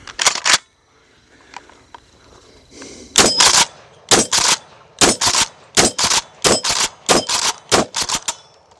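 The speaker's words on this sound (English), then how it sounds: "So I've got 7 rounds of that birdshot loaded in here, and I'm going to see how quickly I can run it." Seven birdshot rounds fired in quick succession from a Kel-Tec KS7 pump shotgun, loud sharp blasts each followed by the clack of the pump action, spaced about half a second to a second apart after a brief quiet start.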